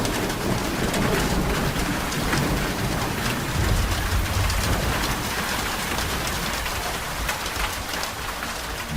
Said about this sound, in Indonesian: suara guntur menggelegar keras, dan akhirnya hujan kembali turun dengan sangat lebatnya